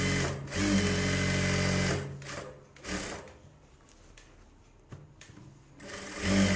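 A sewing machine stitches around the sleeve border of a Bharatanatyam dance costume in short close bursts of whirring, separated by pauses and quieter handling sounds.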